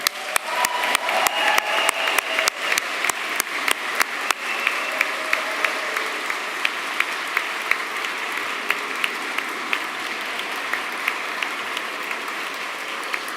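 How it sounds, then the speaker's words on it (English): Graduation ceremony audience clapping and cheering from a balcony, starting with sharp distinct claps that blend into sustained loud applause lasting over ten seconds. "You can cheer, you can shout, you can clap, do whatever you feel is necessary."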